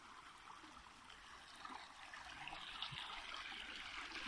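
A forest stream flows beside a mountain path, a steady wash of running water that swells slightly over a few seconds, moderately close and continuous with no voice.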